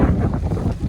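Strong wind buffeting the microphone, a low roaring rumble with gusty fluctuations throughout.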